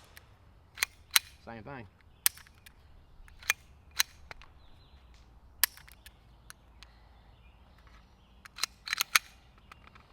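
A Retay RXP22 .22 pistol fires at close range with sharp, spaced reports and the metallic clack of its action cycling. A short burst of shots comes near the end, and someone speaks briefly.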